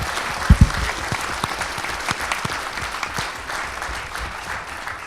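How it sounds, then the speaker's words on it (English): A room full of people at a town hall meeting in Yuba Canyon applauds firefighters, loud sustained clapping from a crowd with a couple of sharp thumps near the start. "let's just have another round of applause for the brave men and women who put out that fire so quickly"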